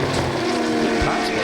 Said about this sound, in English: Have a listen to the sound of these magnificent motor cars.